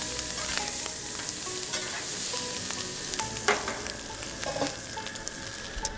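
Sausage dumped onto garlic and butter on a hot cooktop sizzles and fries steadily for several seconds, with scattered stirring clicks and scrapes over the crackle, no voices.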